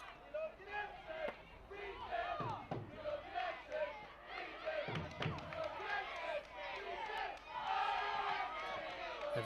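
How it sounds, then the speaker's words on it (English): Everton fans at a women's football match keep up a distant crowd roar with swelling chants and shouts, heard faintly in the stadium with occasional thuds. "Everton fans still cheering their team on"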